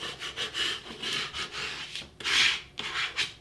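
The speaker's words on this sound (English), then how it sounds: "I'm going to squeegee all the parts on there" A squeegee is pushed firmly over vinyl letters on a board, giving repeated scraping rubs in steady back-and-forth strokes with a brief louder pass near the end, close and with no talking.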